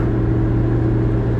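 A 1935 Horch 850 Sport classic car engine hums with a steady low rumble while driving, a constant droning tone with no speech.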